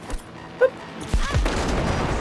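Gunfire in Cyberpunk 2077 breaks out as a few sharp reports, then a heavier burst of shots with a booming low tail that rings on, loud and close.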